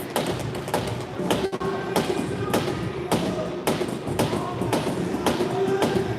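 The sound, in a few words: hockey sticks banging on rink boards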